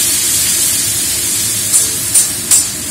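Garlic hisses and sizzles steadily in hot oil with frying onions while a Bengali fish curry is cooked, a loud continuous spray with a few short, sharper spits near the end.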